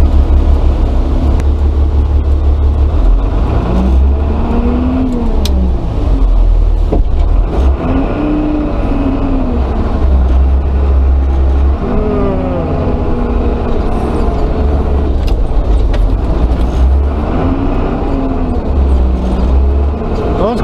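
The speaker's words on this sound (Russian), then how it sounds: "машины снуют как не знаю что" Cars moving through snowy residential yards during snow loading, with engines rumbling and revving up and down close by while a person talks over them.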